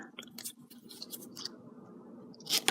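Scissors snip through mint-colored paper in a few quick, close cuts, followed by a brief pause and then a sharper final snip.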